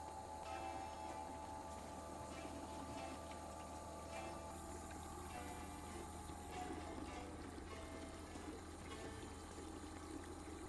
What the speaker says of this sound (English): I launched the accumulator tank with a built-in pump, which sucks the water from the river through the filters and into the system